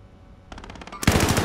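Automatic gunfire in Call of Duty: Modern Warfare, a quick rhythmic burst of about eight shots that gives way to a louder, denser stream of sustained fire at close range, with no talking.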